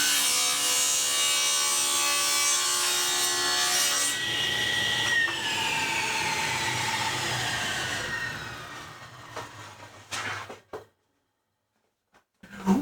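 A table saw rips through a piece of wood, a loud sustained whine with the blade tone dropping under load, then spinning down and going quiet before a final clunk.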